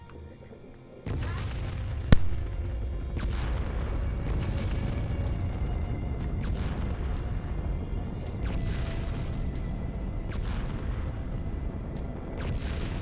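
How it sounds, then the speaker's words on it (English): A barrage of orbital missile strikes in Fallout 76 rains down, a heavy continuous rumble of overlapping booms with repeated sharp impacts throughout, loud and sustained after a quieter opening. "Fire at will. Which means fire orbital strikes."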